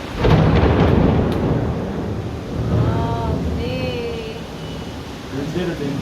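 Thunder rolls in a deep, heavy rumble during a fierce evening rainstorm, with rain hissing steadily and faint voices and other sounds in the background.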